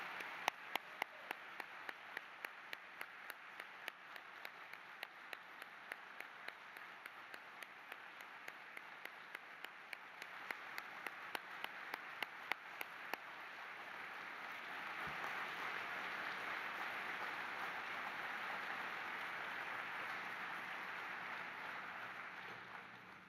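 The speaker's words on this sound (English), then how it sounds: "let's give all these veterans one more much-deserved round of applause" Veterans Day commemoration ceremony audience applauding the veterans: a steady run of sharp claps at first, swelling into a dense, sustained wash of applause that continues at a moderate distance with no talk over it.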